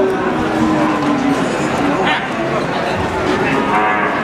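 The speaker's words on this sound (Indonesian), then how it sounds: "Ini sapinya." Cattle low and moo at a crowded livestock market in Wirosari, with a sustained bovine call running through a dense din of milling animals and people, voices talking throughout.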